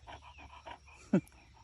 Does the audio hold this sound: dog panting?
yes